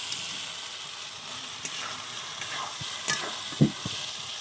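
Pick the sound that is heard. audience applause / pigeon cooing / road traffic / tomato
tomato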